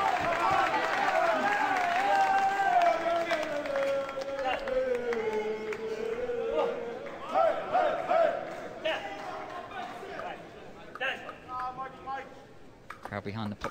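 Crowd at a world championship ping pong match applauding and cheering after a long rally, a mixed roar under prominent commentator talk, rising and falling with scattered claps.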